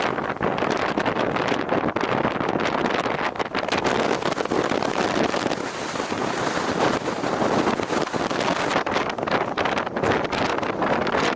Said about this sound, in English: Almost like leaning back into the wind right now.